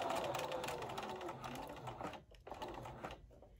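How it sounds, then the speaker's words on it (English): A sewing machine runs in a fast steady buzz, stitching fabric for a cooling neck wrap, then briefly stops and restarts with a few shorter bursts, faint and close. "back tack, stitch forward to the other end."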